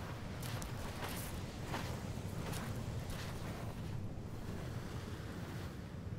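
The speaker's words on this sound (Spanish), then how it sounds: "A la izquierda se escuchan las olas del mar." Ocean surf washes steadily onto a shore, a continuous soft roar of breaking waves mixed with wind buffeting the microphone, fairly faint and without voices.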